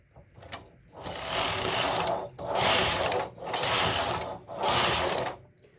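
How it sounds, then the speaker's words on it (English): Singer knitting machine carriage pushed back and forth across rows, four long loud mechanical rattling passes separated by brief pauses, close and alone. "I'm holding the end and I'm going to move it and carry on knitting"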